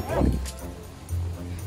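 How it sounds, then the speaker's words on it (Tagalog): A dog close by gives a short yipping bark followed by whimpering whines, fairly loud, with no clear talking over it. "Kasi ang ingay yung aso."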